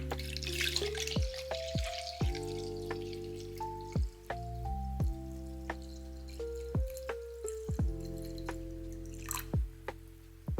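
Distilled water, 18.4 ounces, poured into a container for a room spray recipe; a steady trickle with rising pitch as the vessel fills, punctuated by repeated drips and small clinks over about ten seconds, with no talk.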